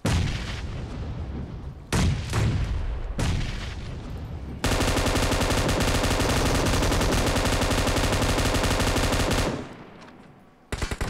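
Machine gun fire in the PUBG video game, a few sharp bursts followed by a long, loud, sustained rapid volley lasting several seconds, then a fade and a final short burst.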